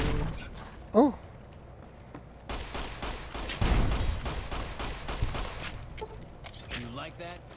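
Grenade launcher fire in Fallout New Vegas: a string of heavy booming blasts and rumbling impacts in the middle of the clip, mixed with a man's startled exclamations.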